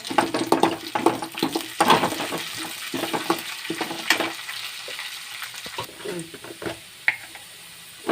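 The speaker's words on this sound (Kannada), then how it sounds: "ಇತ್ತೆ ಉರ್ದ ಬೇಳೆ ಪಾಡುವೆ" Urad dal sizzling and frying in a hot pan while being stirred, with intermittent clinks and scraping, and a voice speaking softly at times.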